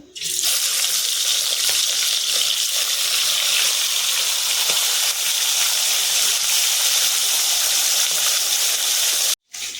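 A fish head drops into hot oil in a wok and fries with a loud, continuous, close hissing sizzle that runs almost unbroken to a brief cut near the end.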